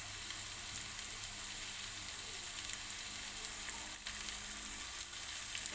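Squid sautéing with onions in a pan, a continuous soft frying hiss, steady and fairly quiet with no voices.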